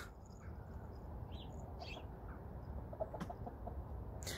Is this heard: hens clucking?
yes